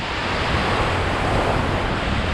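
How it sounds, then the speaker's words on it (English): Atlantic Ocean surf at Daytona Beach, Florida, roars as a steady broadband wash of breaking waves with wind buffeting the microphone. It is loud and close, and no one speaks. "This wave's getting too tall."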